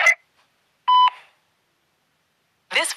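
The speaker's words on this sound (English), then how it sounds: "Please leave your name and your number at the end of the beep" A single short electronic voicemail beep, steady and clear, sits between brief bursts of voice at the start and end with silence in between.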